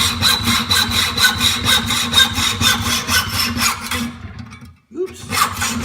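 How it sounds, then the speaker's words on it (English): Hand hacksaw cutting through a grade 2 bolt clamped in a vise, fast regular back-and-forth rasping strokes close up, stopping briefly near the end before a few more strokes resume. "And I think today we're gonna go old school"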